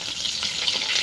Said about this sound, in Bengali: এই দেখুন শোল মাছ ভাজা হয়ে গেল।